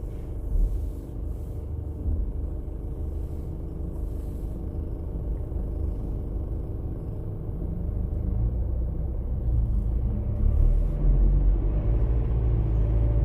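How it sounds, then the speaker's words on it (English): Steady road traffic in Melbourne near peak hour, a continuous low rumble of passing cars and heavier vehicles that swells slightly toward the end, with no talking. "Plenty of traffic around now because I think it's on, oh, it's getting close to peak hour knock-off time"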